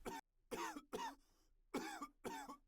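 Five sharp, forceful coughs come in quick succession from one person, each a short, harsh burst with brief silent gaps between, close and clear.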